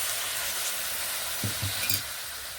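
A little water added to a hot pan of beans sets off a steady close sizzle with a few soft scraping stirs partway through and no talk.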